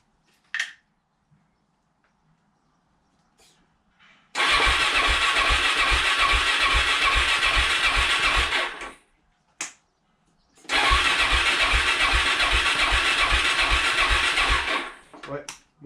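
A Suzuki DR-Z 400 SM motorcycle cranked twice without catching, each attempt a long, loud, rhythmic starter churn of about four seconds separated by a pause, with brief clicks and a voice speaking between attempts.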